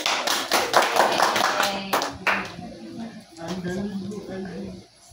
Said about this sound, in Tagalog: Ato tangon palakpak si Glenn.